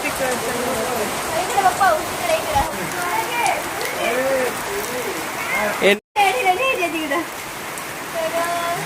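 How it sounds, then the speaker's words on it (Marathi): Rain begins falling outdoors in a steady, fairly close patter while a person talks over it, with one brief moment of silence partway through. "पाऊस सुरू झालेला आहे"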